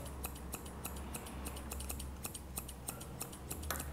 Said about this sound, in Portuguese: você vai aparar essa pelagem aqui na lateral